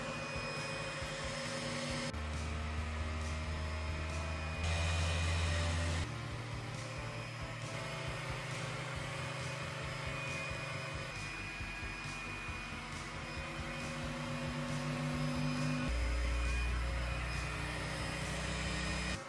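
A TwoTrees SK1 CoreXY 3D printer runs its vibration test with a continuous close motor hum and buzz. Its tones step to new pitches every few seconds.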